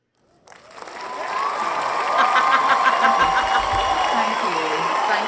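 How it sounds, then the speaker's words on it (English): A crowd's cheering and applause swells up from silence after a speech and holds loud and steady, a dense wash of clapping and whooping with voices mixed in. "This is a 36-second cheering."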